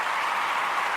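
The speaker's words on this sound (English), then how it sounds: "We got to clap it up for that" Steady applause from a podcast studio audience fills the whole second, a dense, even wash of clapping with no gaps and no voices over it.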